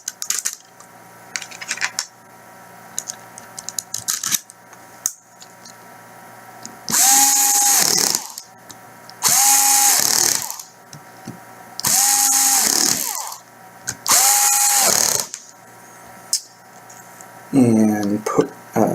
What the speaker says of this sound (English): go ahead and put your Phillips screws back in.